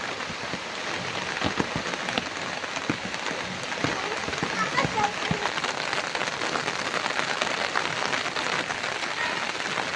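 Sudden rain pouring outside a house under dark clouds, a constant rushing patter with scattered sharper drops, while people talk quietly in the background.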